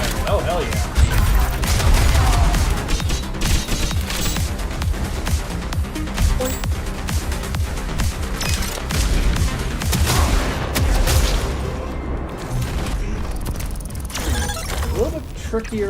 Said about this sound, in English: Oh, I could just rapid fire it.